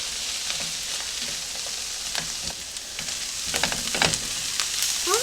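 Onions sizzling and frying in a pan, a steady broadband crackle close up with occasional stirring scrapes and pops, no voices.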